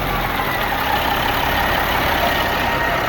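A Caterpillar 3406C diesel truck engine, freshly inframe rebuilt and fed from a 5-gallon bucket, idles with a loud steady clatter and hiss, unbroken and close.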